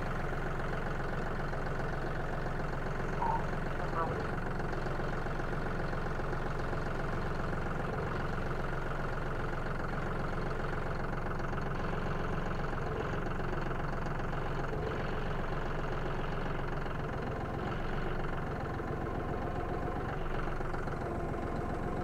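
A tractor engine runs steadily for the whole stretch, a low continuous drone with a faint rise as it comes back up toward the listener on a farm while slab wood is being moved.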